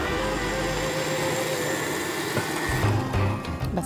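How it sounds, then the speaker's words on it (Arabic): An electric blender of modest wattage and speed runs steadily, blending qamar al-din apricot paste into a smooth liquid, its motor whir loud and continuous with a slight shift in pitch near the end. "انا الخلاط بتاعي الوات بتاعه مش عالي او السرعه بتاعته مش عاليه"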